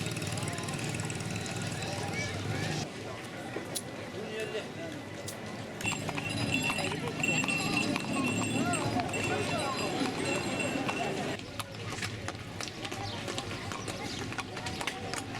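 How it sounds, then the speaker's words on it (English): Hooves of a horse-drawn carriage clip-clop across a busy Marrakech square, moderately faint beneath a dense wash of crowd chatter and street noise that continues throughout. "Here you can take a horse-drawn carriage ride"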